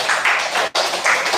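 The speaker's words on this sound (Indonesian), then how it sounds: "tepuk tangan untuk Mbak Azza" A classroom group claps for a student in a short burst of applause, a brief pause splitting it into two rounds, the clapping close and dense.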